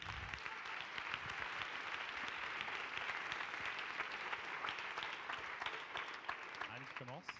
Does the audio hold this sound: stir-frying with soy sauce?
no